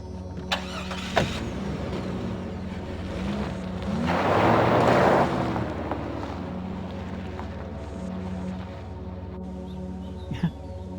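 In the X-Files video game, a car starts up and drives off, a low engine hum swelling into a louder rush midway before easing back, with faint clicks and a voice talking over it.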